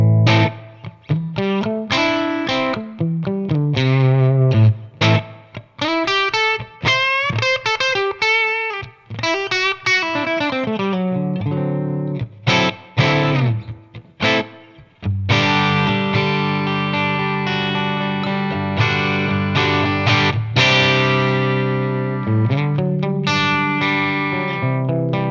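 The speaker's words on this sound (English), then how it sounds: "I'm playing my Vigier Strat style guitar." Vigier Strat-style electric guitar played through a Tonex pedal preset, loud and alone, with chimey, effect-laden chords and single-note runs ringing out continuously.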